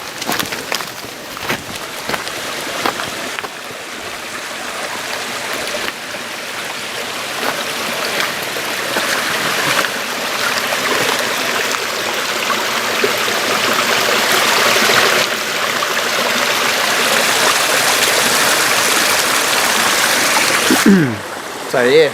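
Creek water flowing in wild bush country, a steady broad rush and trickle that grows slightly louder as the walk continues upstream, with footsteps and brush noise early on.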